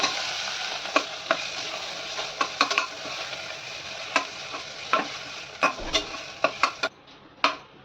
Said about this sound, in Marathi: एक 2-3 मिनिटं हा मसाला परतून घ्यायचा।